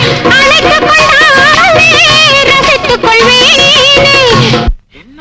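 A Tamil film song with a singing voice over full instrumental backing plays loudly and continuously on the radio, then cuts off abruptly near the end.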